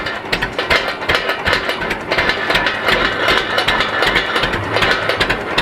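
A carbureted LP gasoline engine runs at a cotton gin festival, holding a steady, close chugging rhythm of quick repeated pulses without a break.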